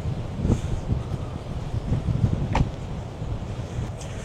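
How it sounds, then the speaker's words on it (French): Strong wind buffets the microphone at a plain beach on Ishigaki, Japan, where swimming is closed for the day; steady low rumbling gusts with a few sharper bursts, and no voices. "Bon, ça m'étonne pas vu le vent."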